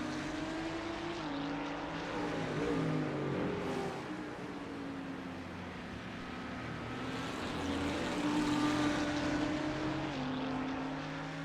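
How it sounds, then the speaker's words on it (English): A Ford Mustang GT3 race car's V8 engine in the iRacing sim at Catalunya, a steady throaty drone with rising and falling revs through gear changes, loud and continuous, with other cars blending in. "Yeah, Revs Martin, the Mustang does sound pretty wicked."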